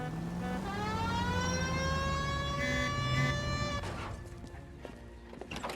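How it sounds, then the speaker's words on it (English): A police car's wailing siren in the video game L.A. Noire rises and holds steady, then cuts off as engine rumble and clattering noises take over, fairly loud and close. "Hit the siren."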